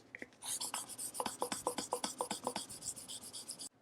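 Close, rhythmic scratchy rubbing of 600-grit sandpaper on a curb-rashed car wheel, quick back-and-forth hand strokes repeating steadily for a few seconds before stopping abruptly.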